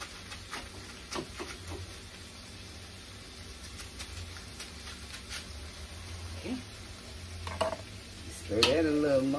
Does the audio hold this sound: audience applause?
no